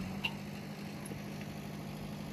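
A JCB excavator engine idles nearby at night, a faint, steady low hum with an even rhythm and no voices over it.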